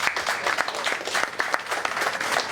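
Applause rises from an audience at a local election candidates' event in Oxnard and Port Hueneme, a dense, steady patter of clapping that lasts throughout.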